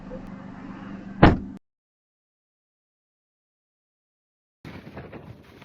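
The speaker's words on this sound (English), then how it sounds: "Close the door!" A single solid thud as a car door slams shut, close and loud, cutting off wind noise, then silence before muffled sounds return.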